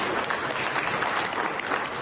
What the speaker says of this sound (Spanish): Todos aplaudiendo, claro